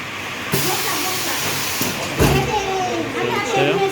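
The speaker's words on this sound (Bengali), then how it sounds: "এই যে দেখে নাও মেশিন চলছে" A bottle cutting and packing machine running, a loud continuous hissing mechanical drone with periodic clunks and thumps, while someone speaks over it.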